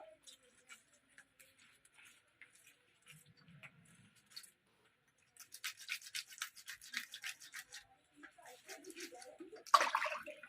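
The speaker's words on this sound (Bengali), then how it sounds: "এবার এইভাবে পরিষ্কার করে মাছগুলো সব ধুয়ে নেব।" Cut pieces of rohu fish are rubbed and rinsed by hand under water, making quiet intermittent splashes and squelchy scrubbing close by, with bursts of trickling water and soft clinks between pauses.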